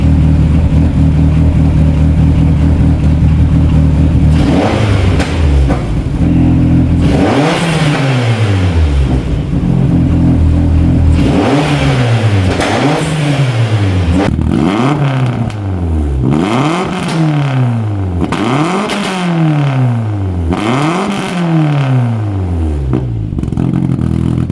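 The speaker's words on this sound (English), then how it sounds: "So to give it a few revs now, make sure this thing actually still revs and runs as it should." An abandoned rally car's engine, full of bodge jobs, idles and then is revved repeatedly, each blip rising sharply and falling back in a rhythmic series of loud, close revs with no talking.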